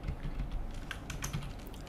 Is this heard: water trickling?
no